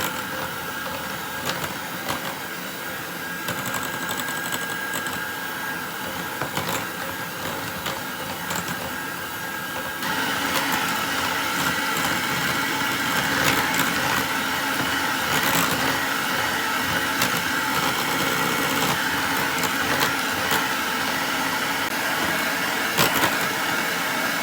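Electric mixer whirring through Brazilian cake batter as sugar goes in, a continuous buzzing motor drone that grows slightly louder partway through, with small knocks against the bowl.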